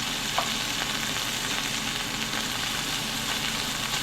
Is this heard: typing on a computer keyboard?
no